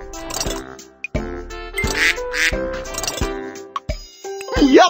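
Duck quacks in a Mickey Mouse Clubhouse video game, several separate cartoonish quacks in an uneven rhythm, loud and close, with a short musical jingle near the end.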